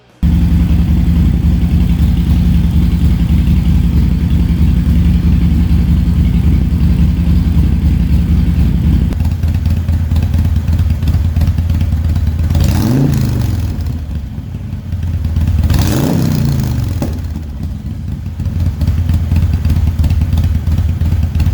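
A Harley-Davidson Sportster motorcycle engine runs steadily at idle and close by, with a deep continuous rumble, then two quick throttle blips that rise and fall around the midpoint before it settles back to a loud idle.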